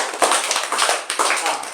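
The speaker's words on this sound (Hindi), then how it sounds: "इसके लिए जोर से तालियां बजाओ" A classroom of young children claps loudly together, producing dense overlapping clapping that swells and dips in quick waves for a moment.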